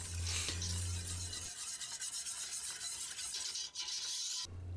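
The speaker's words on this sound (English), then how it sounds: "Keep whisking and slowly add more milk." A whisk scrapes steadily and briskly around a pan as milk is worked into a sauce, a continuous close rasping stir with a heavy low hum underneath that stops near the end.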